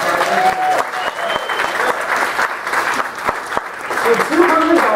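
Audience applause at a Colorado regional event: a room full of steady clapping that holds at a constant level for the full stretch, with some voices mixed into the crowd noise.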